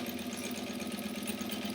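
Steady, continuous hum of a home sewing machine quilting straight lines, a constant mid-range whir with no breaks, close and moderately quiet.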